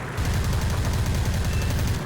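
Steady rapid-fire chatter from the ShVAK cannons of a La-7 fighter in War Thunder, a fast, even stream of loud shots that continues unbroken for about two seconds.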